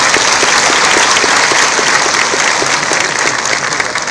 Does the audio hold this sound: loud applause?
yes